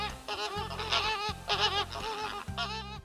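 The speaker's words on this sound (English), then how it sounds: "I hear a flamingo fluting in my ear." A flamingo's fluting call in an animated children's read-aloud book, heard as repeated nasal honking bird calls in short bursts over a low rhythmic musical backing.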